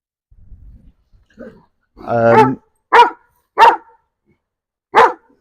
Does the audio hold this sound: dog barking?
yes